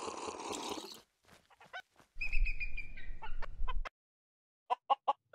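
Chicken clucks in the Minecraft video game: a burst of busy noise at the start, then scattered short clucks and a clear run of chirpy calls mid-clip, ending with three quick sharp clucks, with no talking.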